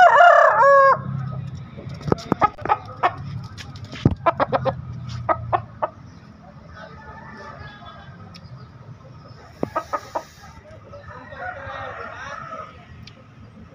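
Bangkok chickens at the Daya chicken market in Makassar: a rooster crows loudly up close, then a run of clucks and sharp calls, with more crowing and market chatter in the background.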